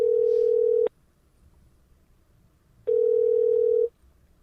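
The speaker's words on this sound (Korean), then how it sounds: "저희가 찐빵님한테도 한번 전화 연결 시도해 보겠습니다." Telephone dial tone while a call is placed: two steady, clean single-pitch tones, the first about a second long, then a pause of about two seconds before the second, alone with no talk.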